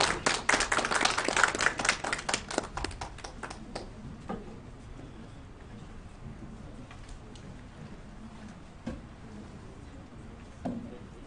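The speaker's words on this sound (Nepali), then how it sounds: "हामी सबैजना ताली बजाएर हाम्रो एल्डर आशिषलाई स्वागत गर्छौँ" An audience at a Nepalese fellowship Sunday church service in Washington, DC claps to welcome an elder, a dense burst of applause for about four seconds that thins to scattered claps and fades into quiet room noise.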